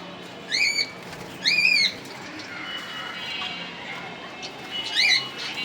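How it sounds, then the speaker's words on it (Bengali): Caged pet birds let out three loud, harsh squawks close by, spaced a second or more apart, with quieter background noise in between. "পাখিগুলো অনেক বিরক্ত হয়ে গেছে অনেকক্ষণ ধরেই চিল্লাপাল্লা করতেছে"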